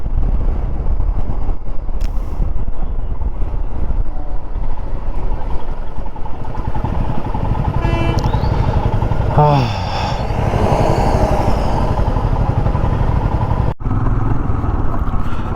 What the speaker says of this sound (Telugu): మళ్ళీ ట్రాఫిక్ జామ్.